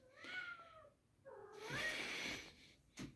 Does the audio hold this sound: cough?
no